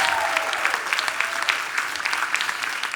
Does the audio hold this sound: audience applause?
yes